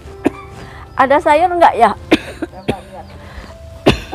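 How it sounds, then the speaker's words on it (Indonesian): A woman coughs several times, with sharp bursts scattered between stretches of conversational speech. The coughs are close and loud against the talking. "Iya, saya batuk nih, buruk."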